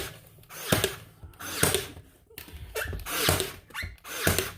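A Ryobi Airstrike battery-powered stapler fires repeatedly up close, each shot a sharp mechanical bang followed by a whirring motor reset, roughly six firings in an uneven rhythm with a brief bit of speech between them.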